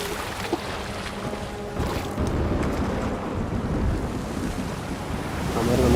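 Ocean water and waves in Uncharted 4 just after the player falls from a boat: a continuous, loud wash of surf and wind-blown water, rising slightly toward the end, with no speech.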